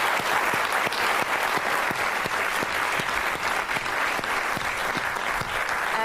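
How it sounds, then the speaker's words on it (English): A conference audience at a European forum applauds its panel with loud, sustained, dense clapping that stays even throughout, a few individual claps standing out near the front. "Can we just give a round of applause to our panel,"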